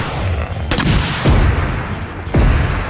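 Two heavy grenade blasts boom out in a shooter video game, one at the middle and one near the end, after an earlier sharp burst, all over a steady background of game ambience.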